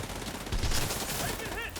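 Bursts of rapid gunfire rattle in The Division 2 video game's Dark Zone, a dense, fairly quiet volley of shots with a brief louder swell midway.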